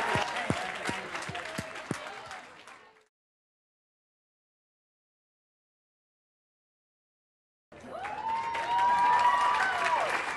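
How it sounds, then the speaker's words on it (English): Audience applause at a comedy interview event with a comedian, about three seconds of clapping mixed with crowd noise, then a long silence, then renewed crowd sound with voices. "give him a round of applause"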